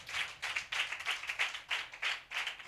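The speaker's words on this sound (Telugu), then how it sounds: "కొట్టు చప్పట్లు గట్టిగా" A congregation clapping hands together in unison at a church gathering, about a dozen firm rhythmic claps at a brisk even pace, fairly quiet and without talk.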